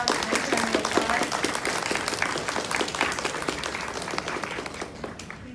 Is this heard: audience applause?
yes